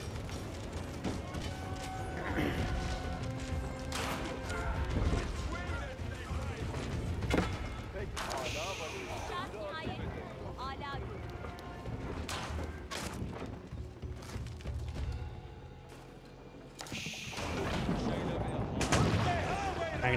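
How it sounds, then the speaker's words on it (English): Janissary musket volleys crackle through an Age of Empires 4 battle between Ottoman and Byzantine armies, repeated sharp shots over busy combat clatter, with a commentator talking throughout. "Janissary is firing away."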